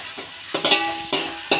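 Onions frying over high heat in a pan for pav bhaji: a loud, close sizzle with a few short bursts of scraping as they are stirred and mixed.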